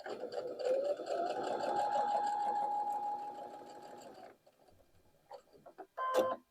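Sewing machine stitching fabric half square triangles, a steady continuous motor whir with a rising then level hum for about four seconds, stopping abruptly, followed by quiet small clicks and a brief final burst as the foot lifts.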